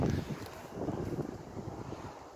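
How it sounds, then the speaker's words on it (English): Wind blowing across the microphone outdoors during the felling of a tall, spindly cedar tree, a steady low rumbling buffet that stays moderately faint and lasts a couple of seconds. "The wind's coming from this way."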